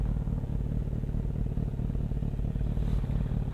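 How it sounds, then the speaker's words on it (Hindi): Kawasaki Z900 motorcycle with a non-original copy aftermarket exhaust, a steady low rumbling engine note with a fast rhythmic throb, held evenly and fairly close with no talk. "आप लोगों के लिए एक बार इसका एग्जॉस्ट नोट सुना देता हूँ"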